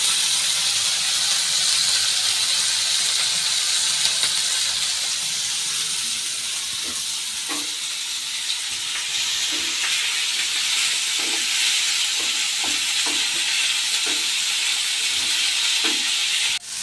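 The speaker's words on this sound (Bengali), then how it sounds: "এখন করলা ভাজা হবে।" Bitter gourd sizzles in hot oil in a wok, a loud, steady frying hiss throughout with occasional soft clicks of stirring.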